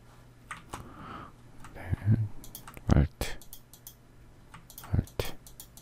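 Keyboard shortcut keys pressed while working in Photoshop, scattered sharp clicks at irregular intervals, a few louder taps among them, with soft talking in the background.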